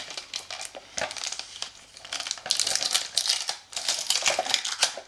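A figurine's plastic packaging being opened, with close, crisp crinkling and crackling in irregular bursts, some sharp snaps, and louder rustling toward the end.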